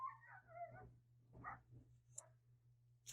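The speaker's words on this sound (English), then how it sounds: "There is the dog going nuts" A dog whimpers with high yips, then lets out sharp barks from another room, faint and intermittent over a low electrical hum.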